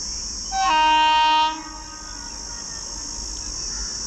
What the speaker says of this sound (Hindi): ये एक मालगाड़ी है